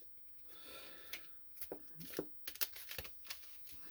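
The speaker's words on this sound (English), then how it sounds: "Give it a little shuffle." Deck of Magic cards being shuffled by hand during a Commander game, a short burst of soft riffling and card slaps with scattered taps, close and faint.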